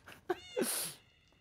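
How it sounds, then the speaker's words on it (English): A cartoonish cat meows in a video game, a short bright mew followed by a higher stretched cry, fairly close and clear with no talk over it. "Come here and pet some cats."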